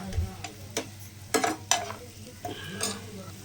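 Sliced onions sizzle in hot oil in a pan for a quail pepper fry, with a steady frying hiss broken by several scraping stirs of a spatula against the pan, close and fairly quiet, no voices.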